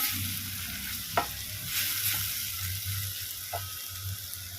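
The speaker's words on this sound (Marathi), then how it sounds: "आता हे छान परतवून घेते सगळे मसाले कांदे आणि टोमॅटोमध्ये छान फ्राय करून घेते" Ground spices, onions and tomatoes being stir-fried in a pan, a steady close sizzle with occasional scrapes and clinks of the stirring spoon.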